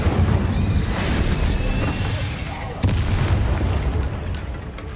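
An Incendio fire spell goes off in a Harry Potter video game as a sustained, loud roaring blast with a sharp burst near the middle, over a rumbling low end; a voice is heard briefly at the start.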